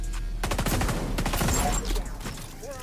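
Rapid bursts of automatic gunfire from the video game XDefiant rattle loudly and close for about two seconds, then fade into scattered game sounds.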